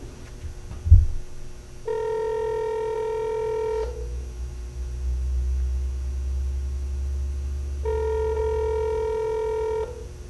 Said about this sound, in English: Come on, Chad, answer the phone for us